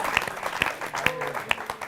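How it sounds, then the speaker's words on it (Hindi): Applause for poet Dr. Kunwar Bechain at a Holi poetry gathering, a lively clatter of clapping with a few loud, regular sharp claps close by and some voices mixed in. "बहुत बहुत प्लीज जोरदार तालियां डॉक्टर कुंवर बेचैन के"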